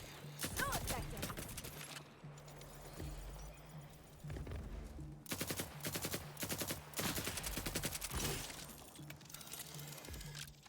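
Sustained automatic gunfire in Helldivers, loud rattling bursts with sharp crackling and shattering impacts, broken by brief pauses before more rapid volleys.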